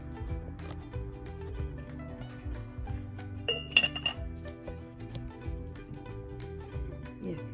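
A small decorative ginger jar set down on an autumn-decorated side table, with light glassy clinks and taps among quieter handling knocks, one brighter clink cluster midway, close and soft.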